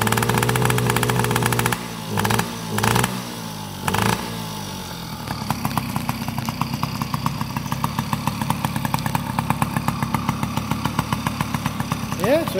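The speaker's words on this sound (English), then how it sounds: "You can hear it started up," A 2012 Yamaha PW50 small motorbike engine runs after a kick start, a steady high buzzing idle with a few blips early on, close by with some talk over it.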